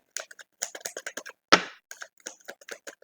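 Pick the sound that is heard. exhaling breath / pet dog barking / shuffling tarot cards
shuffling tarot cards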